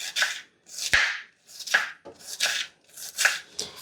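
A knife finely chopping onion on a board, close by, in about seven crisp strokes at an uneven rhythm with short pauses between, and no voices.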